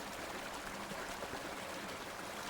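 Tea poured from a thermos gives a faint, steady trickle of liquid that runs continuously and softly for a few seconds, with no talking.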